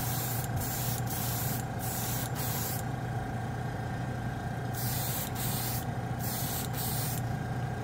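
A paint spray gun laying down SMS color shift paint, a steady, close hiss of air and atomized paint that runs unbroken throughout, with a low compressor-like hum beneath.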